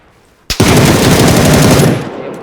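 A loud, sustained burst of automatic gunfire from a shooting video game starts abruptly and rattles rapidly for about a second and a half before tapering off.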